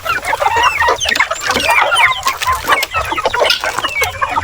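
Native chickens being fed termites cluck busily up close at feeding time, a dense flock chorus of short clucks and chirpy calls with no talking.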